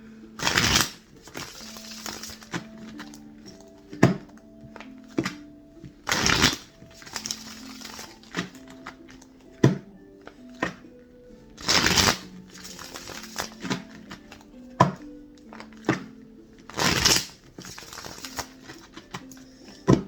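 Tarot cards shuffled in repeated bursts, riffling and snapping loudly several times, with quieter handling and tapping between rounds; a faint tonal hum lingers underneath.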